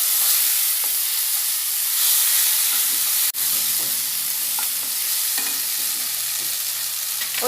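Roti noodles tossed with black pepper powder in a pan: a steady, close hiss of frying with repeated scraping stir strokes and one sharp knock midway, no voices.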